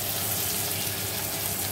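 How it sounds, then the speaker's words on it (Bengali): Chopped onions hitting a hot kadai and frying, a steady close sizzle with a broad hiss that holds evenly through a short stretch, no voices over it. "এবারে দেখো পেঁয়াজ কুচি দিয়ে দিচ্ছি,"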